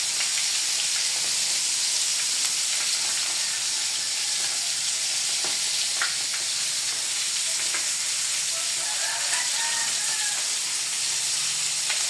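Fish frying in a pan gives a loud, continuous close-up sizzle and crackle for the whole stretch, with occasional pops and no talking.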